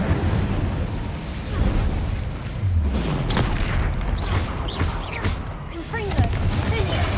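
The Incendio fire spell goes off in Hogwarts Legacy with a deep booming whoosh and bursting flames, followed by crackling pops and scattered magical zings, loud against continuous game noise, with a voice talking over it.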